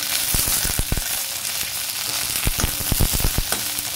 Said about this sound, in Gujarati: તેલ એકદમ ગરમ થઈ જાય એટલે પછી આ બધા જે ભીંડા છે આપણે ધોઈને અને સમારીને અંદર આપણે નાખીશું તેલમાં